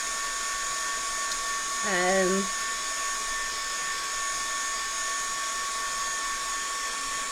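A heat tool or dryer blows on paint on a mixed media project, giving a steady, close whirring hum that runs throughout, with a brief higher chirp early on and no talking.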